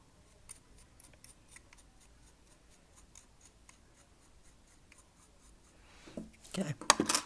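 Scissors trim the fluffy cotton wick of an Augvape Boreas V2 RTA, making faint, quick snipping ticks in a loose series, with a louder burst of close handling rustle at the end.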